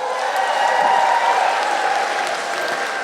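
Steady applause from a large audience at a Poor People's Moral Action Congress gathering, a dense even wash of many hands clapping at once that carries on without a break for a few seconds.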